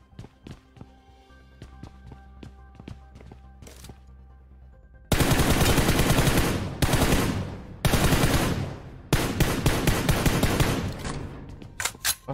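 Gunfire in the mobile battle royale game PUBG Mobile: after a quieter stretch of tonal game sounds, loud bursts of rapid automatic shots erupt in several volleys, close and dominant.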